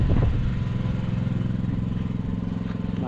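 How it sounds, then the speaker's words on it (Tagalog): Engine running at the back of a farm vehicle, a steady low mechanical drone with a rhythmic pulsing throb, close and fairly loud throughout, alone without talk. "Makina rito sa likod, papatayin ko na rin."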